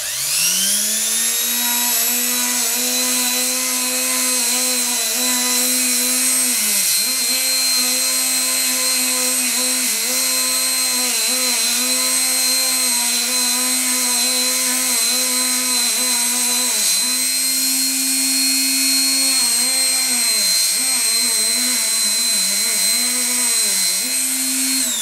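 A rotary tool at its lowest speed runs with a buffing attachment on a polymer clay bracelet, giving a steady, loud, high-pitched whine with brief dips in pitch where the buff meets the piece, continuous and without talk.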